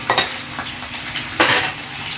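Onions frying in a pan for a chicken fry, a loud close sizzle broken by a few scraping stir strokes at the start and again near the middle.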